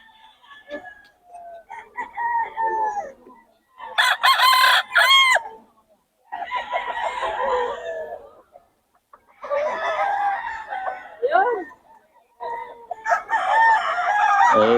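Roosters crow repeatedly at a market, several long, loud calls in bursts separated by short pauses, close by with faint background noise.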